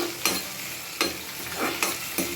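Onion and green chillies fry in hot oil, giving a steady sizzle broken by several sharp scraping stirs at regular intervals. No one speaks.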